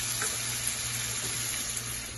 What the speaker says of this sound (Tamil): கரைச்சி வச்சிருக்கிற இந்த புளி தண்ணியை ஊத்திடுங்க